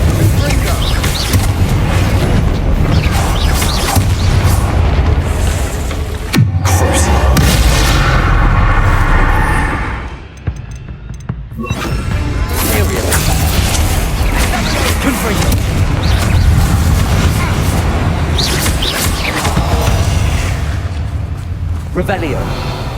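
Confringo explosion spells in the Hogwarts Legacy video game, heard as loud, booming blasts and rumbling within dense game noise, briefly dropping away before resuming.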